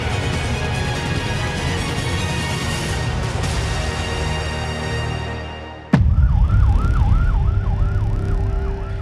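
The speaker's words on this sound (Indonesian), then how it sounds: "Sirine ambulans tak putus membawa puluhan siswa dari SMA Negeri 1 Cihampelas" An ambulance siren wails in a steady rising-and-falling pattern, loud and close, with road traffic noise beneath it, as ambulances carry students from SMA Negeri 1 Cihampelas, Indonesia.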